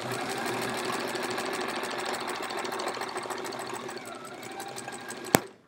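A sewing machine stitches binding onto a hedgehog wall-hanging quilt in a steady, fast, close mechanical whir, slowing near the end and closing with a sharp click.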